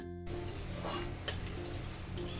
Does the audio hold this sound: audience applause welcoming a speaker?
no